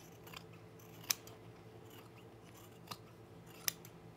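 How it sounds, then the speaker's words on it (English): Scissors trim the seam allowance on a pair of men's chino pants, giving three crisp, separate snips spaced a second or two apart over a quiet room hum. "I'm gonna trim this a little bit."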